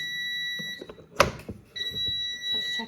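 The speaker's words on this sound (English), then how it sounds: "Sorry about all that beeping." Steady high-pitched electronic beeping tone from an air fryer cooking a leg of lamb, interrupted by a brief clatter, then resuming as a continuous beep close by.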